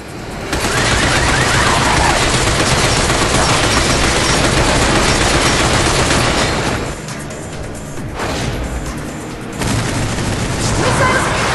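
Dense, sustained gunfire from the shooter video game Binary Domain, loud rapid bursts and booms filling the scene, easing briefly before the shooting picks back up.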